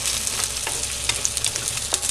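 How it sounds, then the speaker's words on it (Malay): Sliced shallots sauté in hot oil for a Kerala-style beef curry, a close, steady sizzle broken by soft scraping stirs at irregular moments, with no voices. "Minyak tu bagi panas. Kita tumiskan bawang merah."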